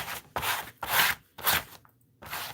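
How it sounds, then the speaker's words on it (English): Sandpaper rubbed in one direction and then back across a wooden stamp set to condition it: four loud, separate rasping strokes at a steady rhythm, with short pauses between them and no talk. "conditioning your stamp set is just by taking sandpaper and going in one direction"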